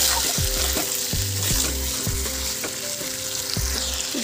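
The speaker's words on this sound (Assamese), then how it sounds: "মাংসখিনি দি এতিয়া ভালদৰে লৰাই দিম অলপ" Meat sizzles steadily in a hot pan while a utensil scrapes and stirs it in a quick, repeated rhythm, close and fairly loud, with no talking.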